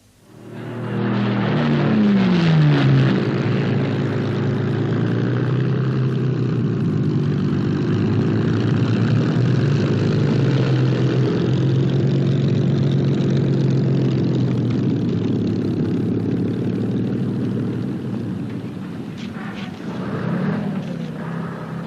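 Spitfire fighter plane's propeller engine droning loud and steady throughout, rising at the start as it passes close, then holding a heavy continuous roar before easing slightly at the end.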